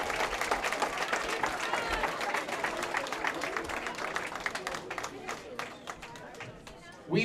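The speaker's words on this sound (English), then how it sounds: "Big round of applause for the teams contending here in the finals this afternoon." Sustained audience applause at a high school girls' bowling team state championship trophy presentation in Wisconsin, a steady dense clapping crowd that fades slightly near the end.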